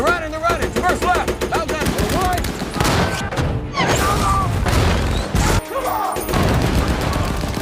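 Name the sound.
machine gun and cannon fire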